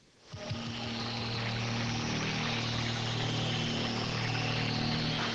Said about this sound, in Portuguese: Ao invés do ruído infernal dos motores, este pouco excitante murmúrio.